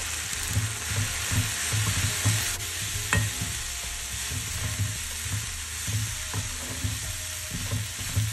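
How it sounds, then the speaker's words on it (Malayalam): Chili powder sautéing in a pan for a tomato chutney, stirred continuously: a loud, steady sizzle with rhythmic low scraping strokes of the spoon repeating about twice per second, close up. "മുളകിൻ്റെ പച്ചമണമൊക്കെ പോയി നന്നായി വഴണ്ട് വരുന്നത് വരെ ഇളക്കിക്കൊണ്ടിരിക്കുക."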